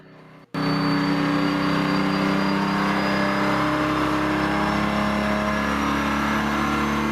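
An engine revs at a test facility, a steady, loud, sustained roar starting abruptly after a brief quiet moment and holding near and constant throughout.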